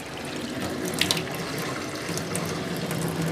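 Water runs steadily from a bathtub supply tap fed by new copper pipe, a constant rushing splash with no pauses.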